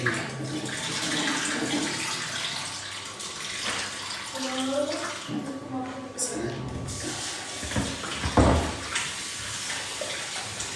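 Running tap water splashes over chicken hearts being washed by hand, a close, uneven rush with occasional bursts, while people talk over it.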